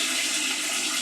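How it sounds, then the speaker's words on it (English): Tap water gushes into a pot of cut potatoes in a kitchen, a dense, continuous rushing splash at close range with no talking. "I'm going to cover these with water."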